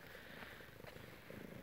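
A cat purring right against the microphone in a shop, a soft steady rumbling drone that stays quiet and continuous throughout, with no talk over it.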